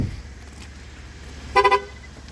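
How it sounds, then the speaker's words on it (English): A 2023 Chevrolet Traverse AWD Premier, engine running, gives its key-in-pocket warning: three quick, loud horn chirps in a tight burst near the end, over a faint cabin hum with no talking. "That is the car yelling about me having the key in my pocket while it is running in the vehicle"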